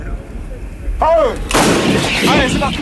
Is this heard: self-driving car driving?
no